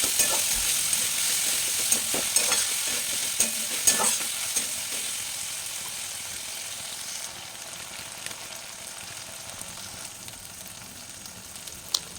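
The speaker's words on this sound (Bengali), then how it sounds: "এবার আদা রসুনের পেস্ট দিয়ে দেবো দিয়ে ভালো করে কষিয়ে নেবো" Ginger garlic paste is stir-fried in a pan with spices for a Bengali snakehead fish curry, a steady sizzle with repeated scraping stirs early on, the hiss easing and growing quieter toward the end.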